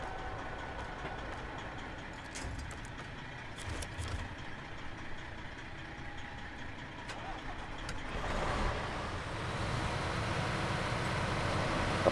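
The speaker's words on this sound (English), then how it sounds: "I pulled off in high gear." In a video game, a truck engine rumbles low and steady, then swells louder as the truck pulls off in high gear. Faint clicks sit on top, with no voices.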